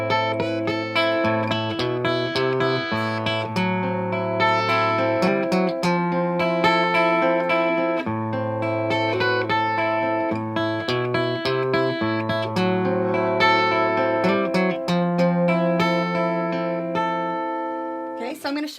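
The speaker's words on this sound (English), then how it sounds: "I have another acoustic guitar finger picking lesson for you here" Acoustic guitar fingerpicking a rock riff, with clear plucked notes over bass notes in a steady, flowing pattern played close for about nineteen seconds, no talking.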